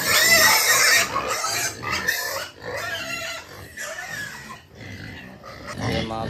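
Pigs in a damaged pen grunt, oink and squeal loudly and almost without pause, close by, with brief gaps between bursts.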